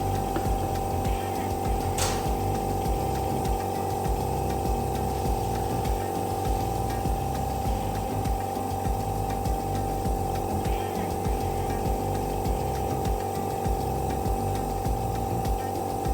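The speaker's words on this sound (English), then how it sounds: "A high-performance, oil-free vacuum pump provides strong suction for fast and efficient filtration" An oil-free laboratory vacuum pump runs during a filtration setup with an Erlenmeyer flask, giving a steady mechanical hum with a constant low drone and faint rattling, close and continuous, with one brief click.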